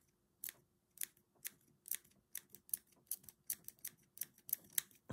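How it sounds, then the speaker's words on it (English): Small scissors snip wool on a handmade dollhouse fox in a quick, irregular series of crisp, close cuts over a quiet background. "So I'll just trim these bits off now."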